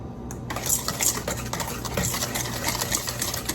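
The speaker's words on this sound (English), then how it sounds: "You just want to whisk it till you can dissolve." Brown sugar and honey whisked in a bowl give a quick, rhythmic clinking and scraping of a whisk against the sides, fairly close and moderately loud, with no talking.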